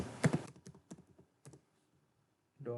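Computer keyboard typing of an Excel quartile formula, a quick burst of close crisp key clicks followed by a few spaced keystrokes and a pause.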